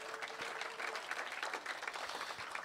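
Congregation applauding in a church, a steady wash of many hands clapping together, moderately loud and sustained throughout.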